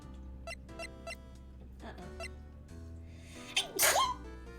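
A single sharp sneeze sound effect from the Ace Attorney: Phoenix Wright game rises over quiet background music, preceded by a series of small squeaky text blips.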